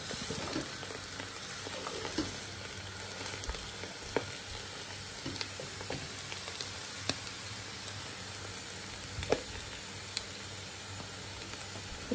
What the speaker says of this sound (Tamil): இப்போ இந்த வெங்காயத்தோட சேர்ந்து இந்த ஈரலும் நல்லாவே வதங்கிட்டு